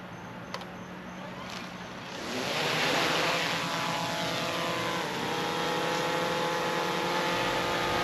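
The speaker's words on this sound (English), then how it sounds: "Now I'm going to take up my DJI Mavic 3 drone." A DJI Mavic 3 drone spins up and lifts off, its propellers rising to a loud sustained whine and buzz after a few soft clicks, then holding steady close by.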